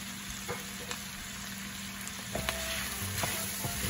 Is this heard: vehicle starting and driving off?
no